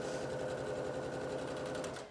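A sewing machine runs continuously while stitching a coat lining, a steady close mechanical whir with rapid rhythmic needle ticking for about two seconds before easing off.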